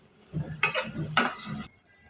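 Ridge gourd pieces stirred in a metal pan with a spoon: two quick scraping, clinking strokes close by, fairly quiet, with a soft shuffle of vegetables between them and silence after.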